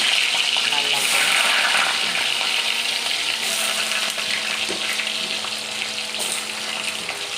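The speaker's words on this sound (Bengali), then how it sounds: "গরম তেলে আলুগুলো ভেজে নেব আমি লাল লাল করে" Potatoes frying in hot white oil, a constant bright sizzle and crackle that holds throughout while someone talks over it.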